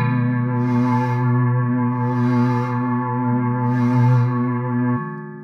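An experimental gong amplifier iOS app plays a struck gong note with its howl effect on, giving a loud, sustained metallic tone with dense overtones. Three rising scraping swells pass through it before the tone cuts off near the end.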